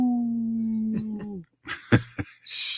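A human voice imitates a wolf with a long, clear howl that slides downward and fades, opening a Howling for Wolves radio segment, followed by a few short rough noises.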